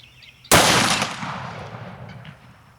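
A single .460 or .500 S&W Magnum revolver shot into a ballistics gel block, one sharp, loud blast that cracks out suddenly and then rings and decays over about two seconds outdoors.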